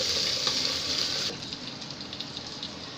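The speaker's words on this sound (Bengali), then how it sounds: "এবার আমি এই বাটা মশলাগুলোকে খুব ভালোভাবে পেঁয়াজের সাথে মিশিয়ে নেব।" Ginger-garlic and cumin paste is stirred into frying onions in a pan for egg biryani, a close sizzling hiss that drops sharply in loudness partway through, then a quieter crackle with faint scraping.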